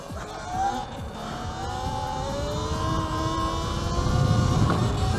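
A supermoto motorcycle fitted with dirt tires revs hard for a power wheelie, its engine note climbing in rising tones over a few seconds, loud and close with steady roar throughout.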